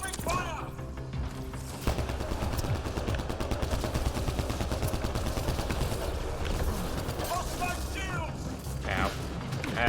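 Dense, continuous automatic gunfire and bursts from a Mass Effect Andromeda multiplayer firefight, loud throughout with mechanical clatter mixed in and a voice speaking over it.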